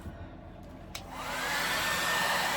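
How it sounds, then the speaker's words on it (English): A blow dryer clicks on and spins up into a loud steady whooshing roar, blowing on leaves close by after a quiet moment with a small tap. "I'll tell you how I'm going to fix it with the blow dryer."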